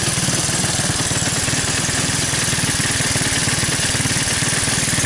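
A 1985 Honda ATC 200S three-wheeler, once waterlogged and now burning oil off the exhaust, idles a little high with a steady, throbbing single-cylinder chug that stays loud and close throughout.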